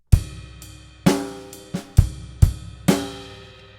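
Drum kit playing bar 37 of the coda groove: about seven sharp snare and ride strikes spaced unevenly, each ringing out with a long shimmering cymbal decay, close and clear with no voices.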